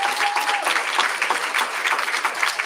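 Applause from a commencement audience honoring graduating interns of a Kansas City tech training program, steady dense clapping throughout at even loudness, no voices on top.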